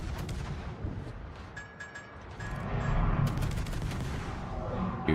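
Warship guns fire in World of Warships, a rumble of booming artillery salvos with rolling blasts that swell louder in the second half, no voices.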